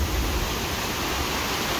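A flooded river rushes past in a steady, loud, broadband roar of churning water, close by and with no voices.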